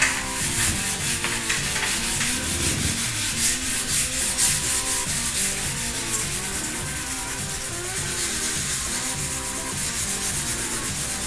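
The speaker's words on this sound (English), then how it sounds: "Okay, so while you're sanding something" Continuous sanding of a surface, a steady rough rubbing scrape that carries on unbroken and fairly loud, with no voices over it.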